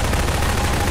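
Rapid gunfire in the Garry's Mod Prop Hunt game, a dense, continuous burst of shots filling the whole second at steady loudness with no talk.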